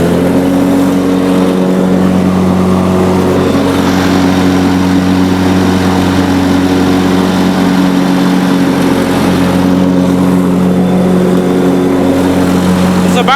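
A 1993 Honda 4514 hydrostatic lawn tractor engine runs at full throttle, a loud, steady, close drone with strong tonal harmonics that holds constant throughout, with slight shifts in pitch and some faint voice-like sound underneath.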